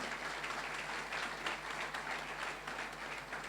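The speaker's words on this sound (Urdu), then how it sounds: "آپ تالیاں بجاتے رہیں" A church congregation claps to welcome guests at a pastor's sermon, heard as a steady, fairly faint wash of applause with a constant low hum underneath.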